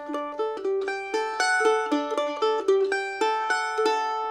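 A mandolin in D picks a song's intro riff, a steady cascade of bright plucked single notes ringing into each other, clear and close with no voices.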